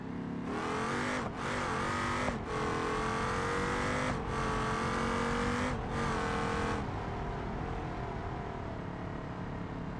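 A nitrous-boosted car in the BeamNG Drive driving game revs and accelerates hard, loud and continuous, its engine pitch climbing through several sharp gear shifts before settling into a steady high drone.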